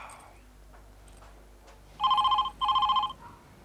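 A telephone rings twice in quick electronic bursts, clear and close, after a quiet room with faint background noise.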